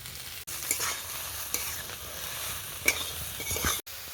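Vegetables and ground spices (chili powder, salt, turmeric, cumin) fry in hot oil for a vegetable chop filling, a steady sizzle with a few stirring scrapes, close and continuous, with brief dropouts.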